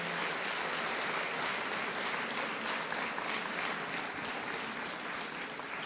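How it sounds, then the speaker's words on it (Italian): Steady, dense applause from a crowd for the Rapallo city band at an outdoor sports festival, continuous and even across the whole stretch, heard from some distance. "Grazie, primo applauso alla banda di Rapallo."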